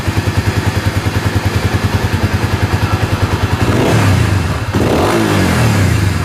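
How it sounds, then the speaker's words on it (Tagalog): A stock Honda Supra GTR 150 motorcycle engine running on a dyno stand after an ECU setup, idling loud and close with a rapid, even thumping pulse, then revving up into a rising, wavering roar that dips and climbs again. "Kung mapapansin nyo, nagbabago po yung andar ng ating motor."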